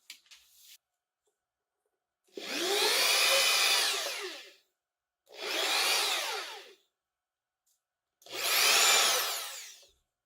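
Three bursts of a high-pitched electric drill with its smallest bit boring through a Demonia Creeper shoe sole, each lasting about two seconds with short quiet gaps between.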